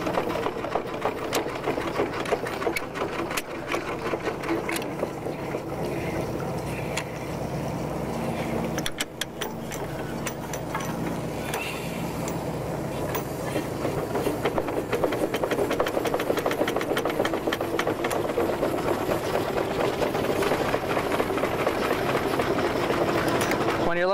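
A steam engine runs continuously at a constant pace, wide open, with a dense rhythmic chugging clatter and someone talking over it.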